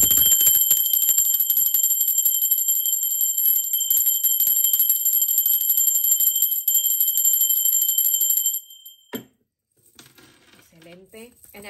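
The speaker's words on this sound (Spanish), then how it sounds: "Así que va campana," A high-pitched bell rings with a steady, shimmering tone that sustains loud and close for about eight seconds, then cuts off, leaving faint rustling and brief soft sounds.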